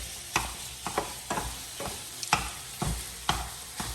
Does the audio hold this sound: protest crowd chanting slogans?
no